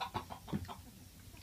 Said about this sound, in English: The rooster is there.